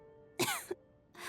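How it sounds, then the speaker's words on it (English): A female character in a Genshin Impact cutscene gives a short, raspy cough and a small follow-up, then a breathy sound, all fairly quiet. "How long have you had that cough, Tonya?"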